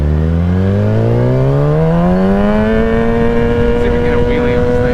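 A 2021 Kawasaki ZX-10 sport bike with a flashed ECU revs hard uphill, its engine note sweeping steadily upward in one loud, close, continuous pull.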